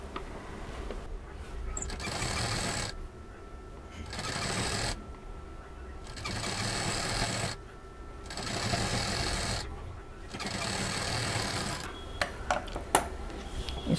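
A sewing machine stitching patchwork fabric pieces together runs in several bursts of steady mechanical whirring separated by short pauses, close and loud, ending with a few clicks and rattles.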